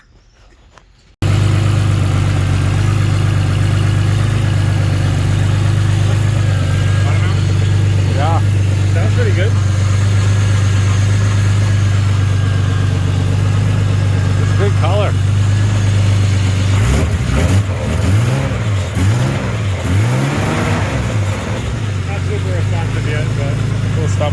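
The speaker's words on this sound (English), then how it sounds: "sick blow-off valve. It sounds sick." A turbocharged car engine idles with a loud, steady low rumble that runs nearly the whole time, then revs in several rising and falling swells near the end. The blow-off valve release is not distinct.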